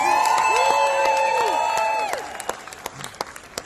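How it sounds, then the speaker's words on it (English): A comedy club audience applauds the comedian's wife, with steady clapping and a few cheers that taper into scattered claps, under a sustained ringing tone that fades about halfway through. "Can we give her a big round of applause, please?"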